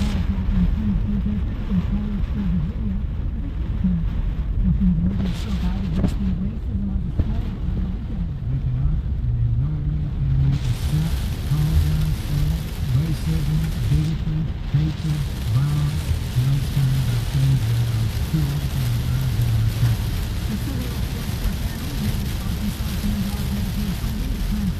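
Heavy rain pounds steadily during a rain-wrapped tornado near Gaylord, a dense continuous roar lasting throughout, with a low rumbling underneath.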